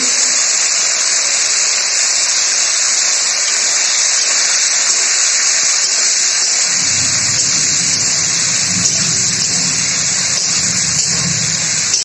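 Potatoes frying with coconut in a pan, a constant loud hiss of hot oil running throughout, with a fuller low sizzle joining partway through as more food goes in.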